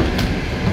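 The Sharq train from Tashkent to Samarkand rumbles along the rails, a short steady low roar of the carriage in motion heard from inside, with no talk.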